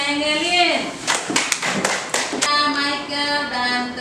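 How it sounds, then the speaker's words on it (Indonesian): A classroom group of students gives a short round of applause for a presenting team, a few sharp uneven claps under voices. "tepuk tangan untuk kelompoknya Engelin"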